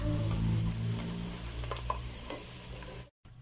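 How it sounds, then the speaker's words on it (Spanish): Cream poured into a pan of softened onion and garlic for pasta with chicken and vegetables, a hissing sizzle that calms as it is stirred with light utensil taps, ending in a brief cut. "agregamos la crema"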